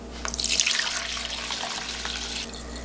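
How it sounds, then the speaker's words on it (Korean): Homemade grape wine, strained clear, pours from a container into a bottle in a home kitchen: a steady close liquid splash and gurgle that swells early, then runs on evenly for a few seconds with no talking. "이거는 이렇게 병에다가 담아 놓겠습니다."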